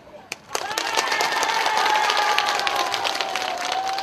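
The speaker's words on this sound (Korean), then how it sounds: "다시 한번 박수" After a brief pause, a crowd of elderly guests at a temple festival in Buyeo bursts into sustained clapping, a full, even crowd sound, with a voice sustaining a held tone over it.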